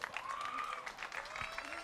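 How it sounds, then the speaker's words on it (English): Spectators applaud canoe race medalists at an outdoor C1 men's short race final of a canoe marathon world championship, a steady patter of clapping running throughout while a voice talks over it. "Congratulations, both of you. Applaud."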